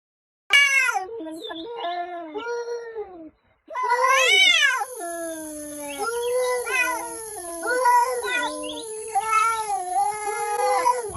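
A talking house cat meows and yowls in long, drawn-out, rising and falling calls, close and loud, with a short pause before a sustained run of wavering vocalizations.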